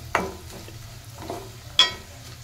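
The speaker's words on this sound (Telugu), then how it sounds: "తాలింపు ఇట్లా ఫ్రై చేసుకోవాలండి" Tempering sizzles in a pan for tamarind pickle, with three short bursts of stirring and frying over a quiet background hum.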